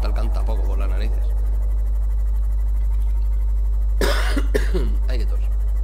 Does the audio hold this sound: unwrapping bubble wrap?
no